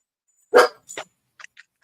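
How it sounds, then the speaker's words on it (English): A small dog barks, one strong bark then a softer second, followed by a few faint short yips, close by and otherwise quiet. "My little dog's starting to bark too."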